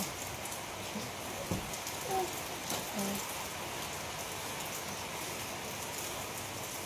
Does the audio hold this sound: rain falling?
yes